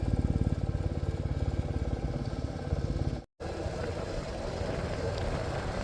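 A Bullet motorcycle engine thumps steadily while riding a mountain road, a loud, close, even low pulse throughout, briefly cutting out for a moment before resuming with added wind roar.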